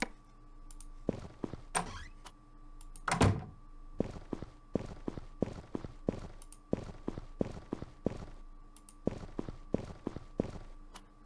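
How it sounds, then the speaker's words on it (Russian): Footsteps in a Hello Neighbor game mod, a regular run of loud, sharp thuds close up, with one heavier thump and a brief scraping sound near the start, no voices. "Звуки шагов совершенно другие"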